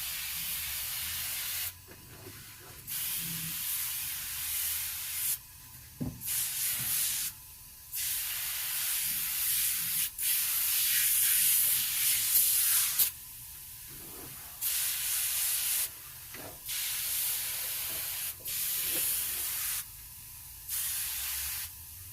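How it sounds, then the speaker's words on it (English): Repeated long hissing bursts from a spray bottle of chrome and glass cleaner on an early-1930s Coleman 228B lantern, close up, separated by short pauses, with no talking. "I'm just going to spray this down with some chrome and glass cleaner."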